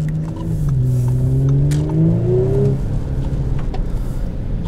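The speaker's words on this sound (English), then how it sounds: "So the V6 under the hood produces 354 horsepower, which is ample." A 2018 Audi S4's V6 engine accelerates hard, its tone sweeping steadily upward through the gears in a loud, close rev for a few seconds before settling into a steady drone.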